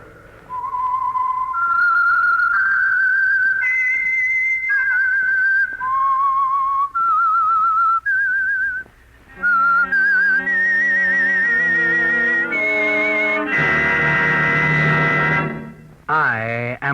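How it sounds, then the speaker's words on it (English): A lone whistler carries the eerie theme melody of the Signal Oil Program radio mystery 'The Whistler', clear and up close. Orchestral backing swells in beneath the tune partway through. "That whistle is your signal for the Signal Oil Program"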